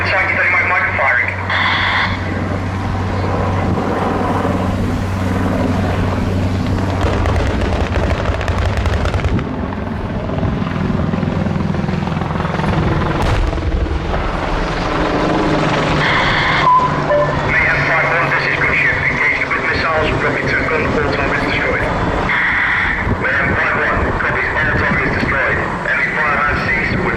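Apache gunship helicopter display at an air show, with rotor and engine noise and bursts of simulated firing and pyrotechnic blasts, heard under continuous public-address commentary.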